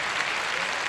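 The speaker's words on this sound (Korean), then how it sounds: "의원들의 박수가 터져 나옵니다." Lawmakers in Japan's House of Representatives chamber applaud as the prime minister takes the podium, a dense, even burst of clapping from many hands in a large hall.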